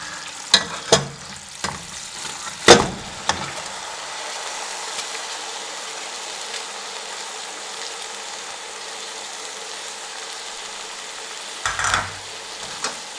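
Boiled rice is stirred into a sweet zarda mixture in a pot: a few sharp scraping strokes and clunks at the start, then a steady soft sizzle, with another cluster of stirring knocks near the end.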